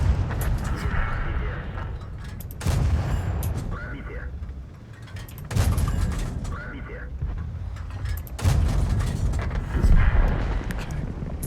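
Heavy tank cannon shots in World of Tanks with an MT-25, three loud booming blasts spaced a few seconds apart over a constant engine rumble, with a player talking between them.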